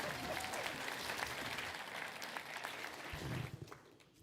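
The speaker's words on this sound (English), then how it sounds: "you can applaud for her one more time. Espi Borboa." An audience at a justice breakfast event claps warmly for several seconds, the applause steady and full before thinning out and fading at the end.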